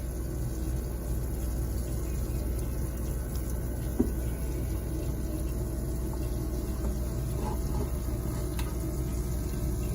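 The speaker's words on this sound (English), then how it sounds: "And just slowly let the water in." Water is slowly let into a container holding a sea fish during acclimation, a steady, soft, rushing trickle that stays even throughout with no talking.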